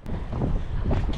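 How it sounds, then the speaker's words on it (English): Loud gusting wind buffeting the microphone while striper fishing on the California Delta, a rough low roar that rises and falls briefly. "That's how windy it is out here."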